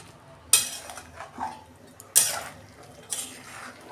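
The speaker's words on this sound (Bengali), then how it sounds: "নেড়ে দিচ্ছি" A spoon stirs chicken curry in a kadai on a gas flame, giving three sharp scraping clinks against the metal pan spaced a second or more apart, with quiet low bubbling between them; no voices.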